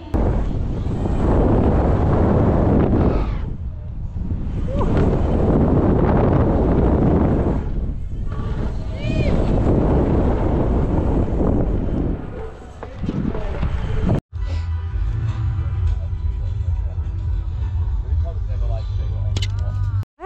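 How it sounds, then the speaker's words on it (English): Strong wind buffets the microphone outdoors at the Crankworx mountain-bike slopestyle course, a loud continuous roar with gusty swells and brief dropouts, changing to a steadier low rumble near the end. "Morning, day two, and the wind is perfect, insane."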